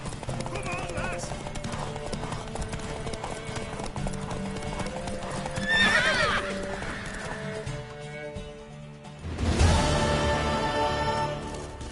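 Horse hooves clip-clop steadily through the scene in The Witcher 3: Wild Hunt, with a loud neigh rising around the middle and another burst near the end, mixed with in-game ambience and some voices.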